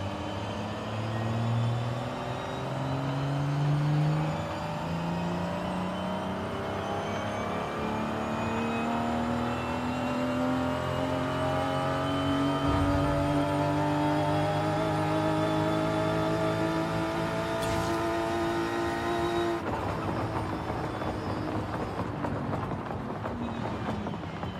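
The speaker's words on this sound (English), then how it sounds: "Alright, now you can hear the car." A Toyota Supra engine in Forza Horizon 5 revs and accelerates continuously, its rising harmonics climbing through gear changes, fairly loud and alone without talk.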